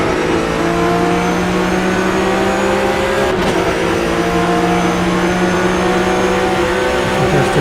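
Porsche Supercup race cars roar steadily at high revs around Albert Park, a loud sustained engine drone with shifting pitch as the cars push along the track.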